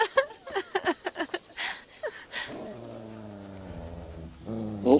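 A dog in the video game Kingdom Come: Deliverance gives a burst of sharp yips and snarls. Then it settles into a sustained, low, rumbling growl that rises again briefly at the end, close and fairly quiet.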